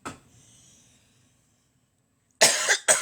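A close, sharp double cough from a woman at a microphone, two quick bursts after a faint quiet stretch.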